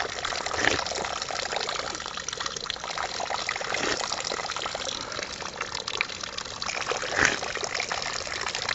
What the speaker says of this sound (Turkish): bir su kaynağı. Bunu kaçırmamak lazım. İçeceğim çünkü o kadar güzel süzülüp geliyor.